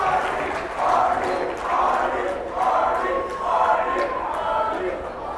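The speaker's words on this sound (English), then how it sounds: "the crowd's loving it" Crowd at a girls' varsity high school basketball game roars in repeated swelling waves of cheering and shouting after a collision involving the referee, loud and close throughout.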